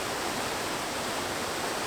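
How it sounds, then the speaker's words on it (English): Steady, full roar of a waterfall heard up close from its base, a constant broadband rush with no pauses. "So I've now moved to the base of the waterfall."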